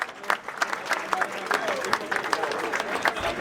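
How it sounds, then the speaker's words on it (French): Crowd applause at a charity driven hunt (battue) in St Maximin, Gard, honouring the hunt's line chiefs: dense, steady clapping from many hands throughout, with voices mixed in. "Vous pouvez les applaudir, ils le méritent."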